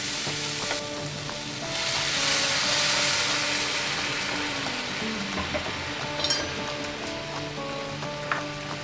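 Field beans (val) sauté in a hot pan with a steady, close sizzle and frying crackle, joined by soft stirring scrapes and a few small clinks, with no talk.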